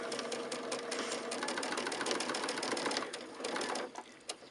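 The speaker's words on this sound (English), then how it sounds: "I'm just showing you to demonstrate how you can actually chain stitch these star" Sewing machine chain stitching quilt star blocks in a continuous run, a steady close mechanical whir with rapid needle clatter lasting about four seconds before it slows and stops briefly.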